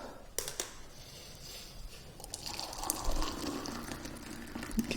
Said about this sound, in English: So first of all, get the water into a cup.